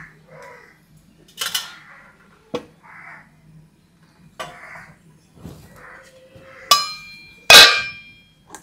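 An idli steamer pot set down on a stove, heard as a few scattered metallic clanks and knocks with one louder ringing clatter near the end, close and separated by quiet gaps.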